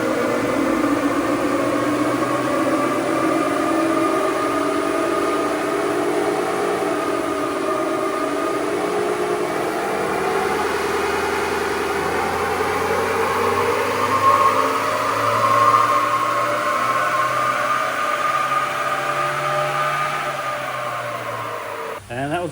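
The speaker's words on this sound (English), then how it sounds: "I'll get it warmed up, and we'll get it on the dyno again with a tune in it and see what it comes to." Stock 48V N80 Toyota Hilux Rogue running steadily on dyno rollers, a continuous close engine drone with a rising tone through the run before easing off at the end.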